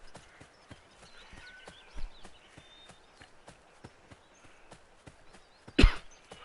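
Horse hooves clip-clop steadily at a walking pace in the Assassin's Creed III video game, a faint repeated patter over a quiet ambient backdrop, broken by a sharper thud near the end.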